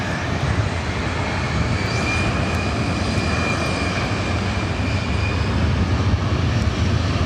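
Skylar 5419 aircraft taking off from LAX runway 24 right, a continuous loud broadband jet roar holding steady from start to finish.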